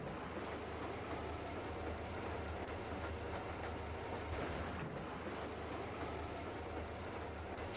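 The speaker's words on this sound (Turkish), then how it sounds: "Şimdi vagonu yavaştan haritamızda işaretli yere doğru götüreceğiz." A rail wagon rolls along tracks in the post-apocalyptic shooter Metro Exodus, a constant close rumble with faint clickety-clack and rattling throughout.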